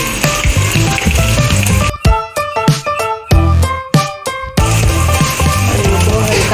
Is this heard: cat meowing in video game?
no